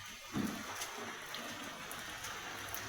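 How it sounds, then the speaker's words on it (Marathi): Heavy rain falling outdoors in a village during the monsoon, a soft, steady wash of drops heard at a distance, faint and continuous without voices. "पाऊस पण खूप आलाय"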